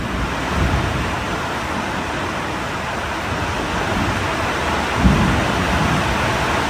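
Heavy rain pours down at a solo campsite near an old Dutch-era factory during a thunderstorm, a dense, loud, continuous roar with a low rumble swelling around the fifth second.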